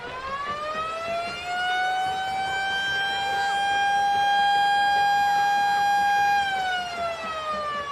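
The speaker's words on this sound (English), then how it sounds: "And the siren sounds for the third time tonight" Loud stadium siren wails at a Friday night high school football game, a single sustained rising and steady tone holding for several seconds before sliding down, with no talk over it.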